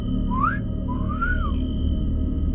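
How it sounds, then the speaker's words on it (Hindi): A lone eerie whistled tune in a Hindi horror story about a midnight drive on a deserted road: two rising, gliding notes, clear and fairly close, over a steady low hum. "वो सीटी की धुन दोबारा से उसके कानों में पड़ी।"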